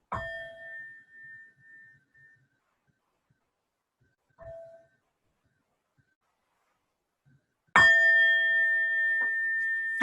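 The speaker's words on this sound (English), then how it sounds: "but I was just ringing a bell." A meditation bell is struck three times in a quiet room, each strike ringing out clearly before fading; the first and last tones sustain and decay slowly, with a short, softer strike between them.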